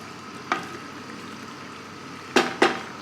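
Chorizo pasta is stirred in a pan over a gentle constant sizzle, with three crisp scraping clinks of the utensil against the pan, one early and two close together near the end.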